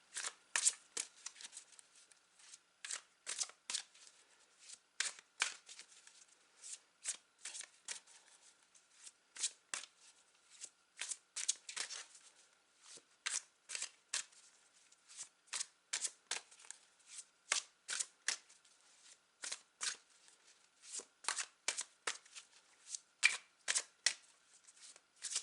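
Tarot cards are shuffled over and over in quick, crisp riffling bursts separated by short pauses, close up and quiet, with no talking.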